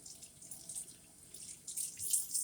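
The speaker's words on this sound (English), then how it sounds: "It's nice to run your onion under cold water too" Cold tap water runs steadily into a sink while an onion is rinsed under it, a close hiss that swells louder toward the end, with no talk.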